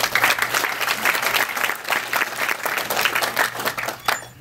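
An audience claps after a tech demo of the iCandy app at a Silicon Valley NewTech event, with steady, dense applause in waves that fades out near the end.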